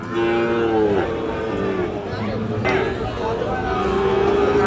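Sahiwal cattle low in long, drawn-out moos over a busy background of voices and general crowd murmur at Ambari livestock market, Parbatipur, Dinajpur.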